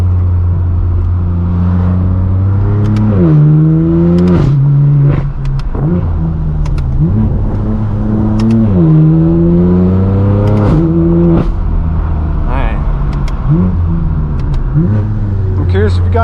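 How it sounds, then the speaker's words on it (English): Straight-piped BMW M4 F82 with a raw, deep exhaust, driven hard on tight, twisty roads: loud, continuous engine roar that repeatedly climbs in pitch through the gears and drops on shifts, with brief crackles between pulls. "I'm curious if you guys like the AWE more raw deep exhaust setup more."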